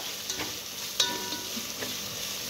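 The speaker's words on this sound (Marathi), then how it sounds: "एकदा व्यवस्थित आपण परतवून घ्यायचं आहे। आता आपण हे गोल्डन ब्राउन होईस्तोवर" Chopped onion, garlic and ginger sauté in a pan on a medium gas flame for dal khichdi, giving a steady close sizzle with a few soft stirring scrapes and one sharper clink of the utensil.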